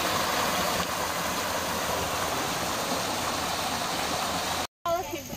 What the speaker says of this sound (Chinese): 非常漂亮的小瀑布